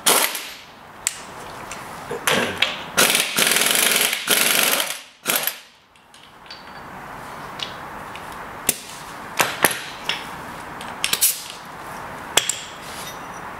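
An air tool works the pinion nut off a Ford rear axle in loud sharp rattling bursts, followed by scattered single sharp impacts over a steady background hiss.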